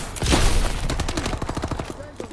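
Rapid automatic gunfire bursts in a Call of Duty: Advanced Warfare hardcore match, a dense rattling volley of shots, close and loud, tapering off near the end.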